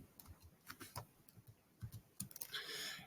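Quiet clicks of typing on a computer keyboard come in irregular taps and short clusters, ending in a slightly busier flurry of keystrokes.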